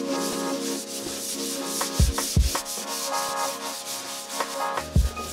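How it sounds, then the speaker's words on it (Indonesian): Abrasive sanding rubs across a putty-filled wall surface being smoothed before painting, a steady scratchy rasp with a few sharper strokes, close and continuous throughout. "Amplas permukaan yang telah dipelamir hingga rata."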